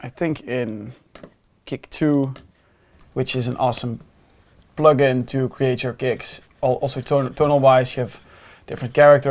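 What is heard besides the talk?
No everyday noise stands out behind the speech.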